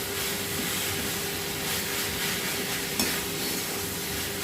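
A sweet, spicy snack filling is stirred and dried out in a pan, giving a steady, dense frying hiss with one small clink of the spoon near the end. No one talks.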